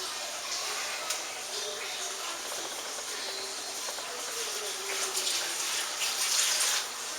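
Liquid poured steadily into a container of peach pieces and sugar for homemade peach wine, a continuous watery splashing hiss lasting several seconds and growing slightly fuller toward the end.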